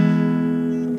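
Guitar in standard tuning rings out with one steady, bright tone for about a second, close and clear with nothing else heard.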